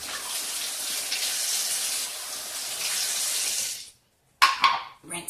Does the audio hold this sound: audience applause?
no